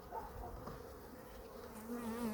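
Honey bees buzzing as they attack at a beehive, a continuous faint droning hum with wavering pitch, close by and swelling slightly toward the end, with no talk.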